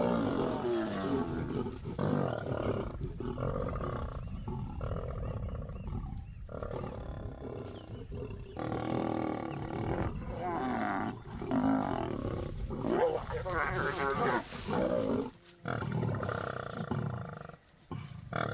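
Male lions roar and growl over a kill, the deep bursts repeating irregularly and close at hand, with quieter breaks between the calls.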